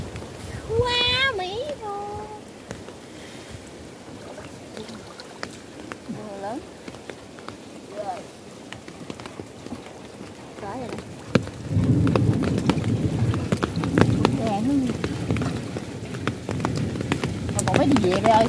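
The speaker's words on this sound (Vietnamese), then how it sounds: "Mưa lớn rồi đó." Heavy rain starts pouring over rice fields, a steady hiss that grows louder and denser partway through, with people talking and calling out over it.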